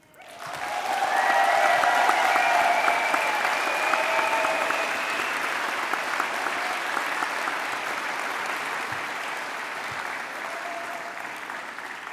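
A graduation ceremony audience applauding and cheering for the families, a loud sustained wash of clapping from a large crowd that starts abruptly and holds steady for about twelve seconds, easing slightly toward the end.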